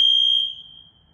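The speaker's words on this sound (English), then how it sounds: "So that means something wrong with the new smoke detector if it's still beeping" A faulty BRK smoke detector gives a single sharp, high-pitched electronic beep that rings out loudly and then decays over about half a second in a quiet room.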